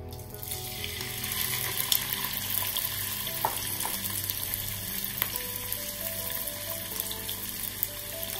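Peeled shrimp fry in a pan of oil, giving a steady close sizzle with soft crackles and occasional pops throughout.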